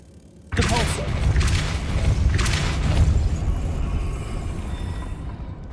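A Depulso spell cast in Hogwarts Legacy bursts in with a sudden loud boom, followed by rumbling thuds and crackling effects that slowly fade.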